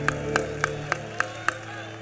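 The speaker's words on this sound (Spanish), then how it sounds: "ese aplauso que se escuche, por favor" An audience at a banda concert in an auditorium claps in steady rhythmic unison, six evenly spaced claps at moderate distance over a low sustained musical hum, with a voice speaking underneath.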